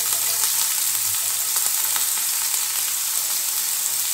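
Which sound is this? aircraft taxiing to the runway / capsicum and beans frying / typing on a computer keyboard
capsicum and beans frying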